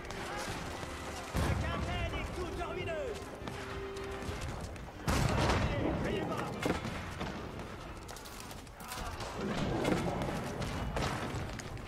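Two cannons firing at a town center in Age of Empires IV, heavy booming impacts and crashing destruction at intervals amid continuous battle noise, with someone talking over it.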